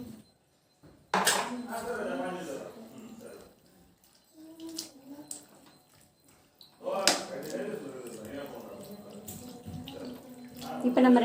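Water runs from a tap in bursts, splashing into a metal pot with some clinking, and people talk over it, while cooking goat intestine curry.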